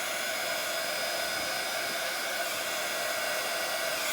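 Heat gun blowing hot air over resin on a glitter cheese board, a steady, loud broadband whoosh held without a break the whole time, with no talking.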